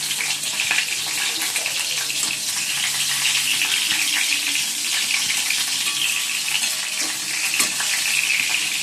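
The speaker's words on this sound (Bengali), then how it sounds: "আর এদিকে বেগুনটা ভাজা বসিয়ে দিয়েছি" Eggplant (brinjal) slices frying in a pan on a home kitchen stove give off a steady, dense hiss and sizzle, continuous and close throughout with no talking.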